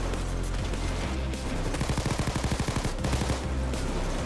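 A Chicago Typewriter Tommy Gun submachine gun in the game Payday 2 fires a rapid, loud burst of evenly spaced shots lasting about two seconds amid a dense background of game noise.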